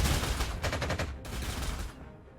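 An aircraft strafes a target in the strategy game Panzer Corps 2, a quiet, fast rattle of gunfire bursts that fades out toward the end, with no speech.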